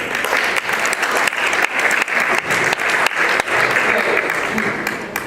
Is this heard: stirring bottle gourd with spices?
no